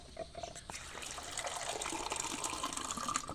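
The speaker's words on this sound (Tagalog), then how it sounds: "magkuha lang ako ng tubig." Water running from a tap into a container, a steady close splashing gush that slowly builds as the vessel fills, fairly soft and alone with no talking.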